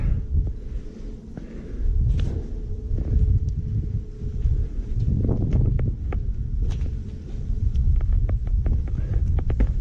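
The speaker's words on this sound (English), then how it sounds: "I know it's windy." Strong wind buffets the microphone in low, rumbling gusts that rise and fall throughout, with occasional knocks and handling noises.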